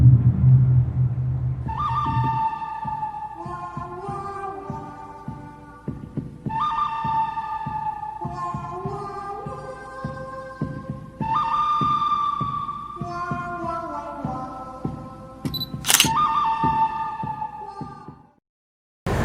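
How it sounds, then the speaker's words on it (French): A heartbeat sound effect from a tomb at Disneyland Paris thumps in steady, regular pulses beneath eerie, drawn-out tones that rise and fall, then stops abruptly near the end. "si vous vous rapprochez de cette tombe-ci, vous pouvez de temps en temps entendre un battement de cœur"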